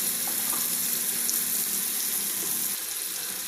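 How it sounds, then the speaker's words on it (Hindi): Beef and okra frying in a spiced masala with turmeric, a constant close hiss and sizzle throughout, fairly even and unbroken, with no talk. "यहाँ पे इसको अच्छी तरीके से हम फ्राई करेंगे मसाले के अंदर 3 से 4 मिनट"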